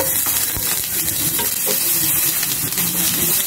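Garlic and onion browning in hot cooking oil for pork giniling, giving a loud, continuous close sizzle and crackle with light stirring noises and no talking.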